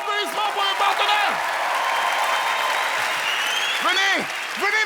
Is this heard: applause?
yes